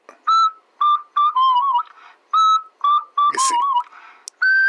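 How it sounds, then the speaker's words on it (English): A person whistles a short, clear tune close by, with repeated rising and falling notes in bursts separated by brief pauses. "whistling?"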